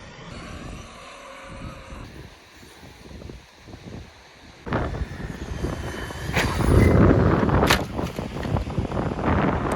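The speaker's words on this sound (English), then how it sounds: "super windy" Heavy wind buffeting the microphone outdoors at an RC car sand bash, rumbling low and uneven, growing louder and rougher in the second half with gusty surges.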